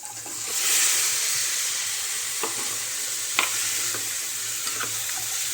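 Cauliflower with coriander-cumin powder and turmeric frying in a pan for a yellow vegetable dish, giving a steady close sizzle with a few sharp clicks of stirring, no voices.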